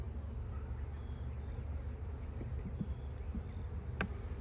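Honeybees in a packed spring beehive during an inspection, a steady low humming drone filling the background with a few faint clicks, continuous and even.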